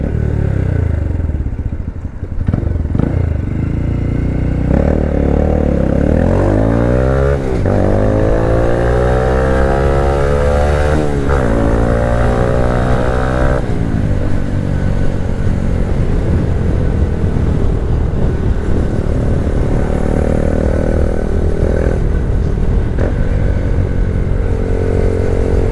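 A 2022 Honda Grom small-wheeled motorcycle being ridden, its engine droning steadily and loudly throughout with rising and falling revs as it accelerates and shifts, plus wind rush, with no talking.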